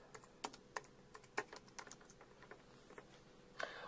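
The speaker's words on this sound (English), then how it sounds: "if I was to just type in the New York Times" Quick irregular clicks of a computer keyboard as a search query is typed, soft and close, with scattered sharper keystrokes and no talking.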